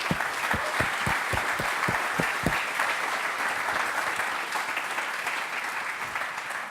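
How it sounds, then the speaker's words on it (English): Sustained applause from an audience at a Formula SAE Lincoln public design review, honoring the event's chief design judge; dense, steady clapping fills the whole stretch with a few sharper claps standing out near the start. "I always want to give him a quick round of applause for his work"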